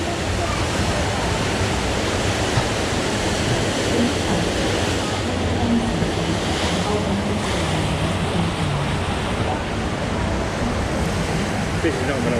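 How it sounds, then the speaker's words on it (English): Water rushes and splashes steadily on a wild river rafting ride at a safari park, a loud continuous roar with no clear breaks and no voices. "Wild river rafting."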